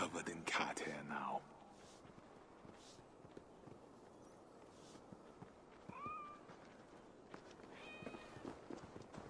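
Cats meow in the Assassin's Creed Valhalla video game, a couple of short rising meows over a quiet ambient bed, with soft hoof-like clops and whispered speech early on.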